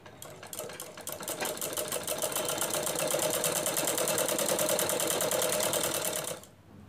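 Sewing machine running steadily, stitching layers of frock fabric with lining, a fast even needle rhythm holding for about six seconds before stopping abruptly.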